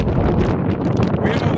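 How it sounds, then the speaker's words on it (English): Wind gusting outdoors on a chilly day near Knysna on the Garden Route, a broad continuous rushing buffet against the microphone with no pauses. "it's windy again and chilly"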